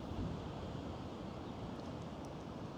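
Steady wind gusts buffet a microphone outdoors on an open grassy landscape, producing a continuous loud rumbling roar with no other clear sounds.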